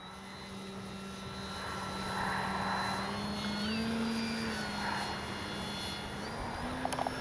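Durafly Tundra V3 STOL RC plane flying into the wind with landing flaps down, its electric motor giving a steady droning whine with slight pitch shifts, moderately distant over light wind noise.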